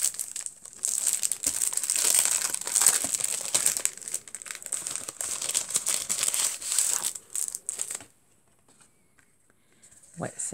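Pink paper for a handmade birthday card crinkles and rustles steadily up close for several seconds, then falls quiet before a brief final rustle.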